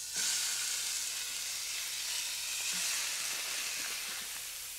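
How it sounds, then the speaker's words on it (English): Seasoned meat browns in a hot pan on a home stove, giving a steady, loud, broad sizzle that holds evenly throughout with faint crackles and no voices. "I'm just browning them at this point, not cooking them all the way through, just giving them color on both sides."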